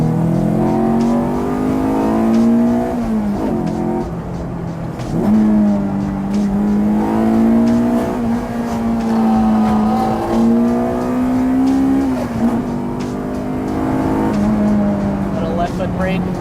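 Honda CRX with a B16 engine driving through mountain turns, a loud, steady in-cabin engine drone that rises and falls with gear changes and throttle, with a person speaking over it.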